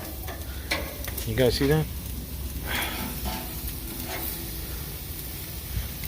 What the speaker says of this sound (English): we're gonna go ahead and flip these steaks and get them from the other side